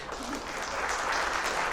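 An audience at a live performance applauds, a steady wash of clapping that is fairly loud and continuous for a brief moment, with no clear voices above it.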